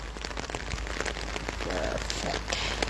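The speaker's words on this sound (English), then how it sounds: "It's a very beautiful rainy day." Rain falling outdoors on a summer day in Switzerland, a steady dense patter of drops hitting surfaces close by, continuous and even throughout with no voices.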